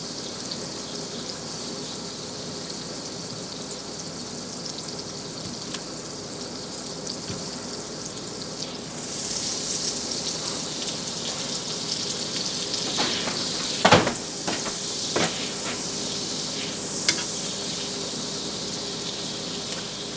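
Plant-based butter melts in a pan with a quiet, steady sizzle that grows a little louder partway through, joined by a few sharp clinks and taps near the end.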